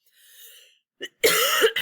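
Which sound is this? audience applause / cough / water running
cough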